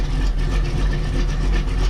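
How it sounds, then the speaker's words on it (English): A Corvette's engine idles roughly, a loud, close, steady low rumble with a slightly uneven, lumpy pulse and faint surging, without any speech. "A little bit of surging, but not a whole lot. Definitely idling rocky."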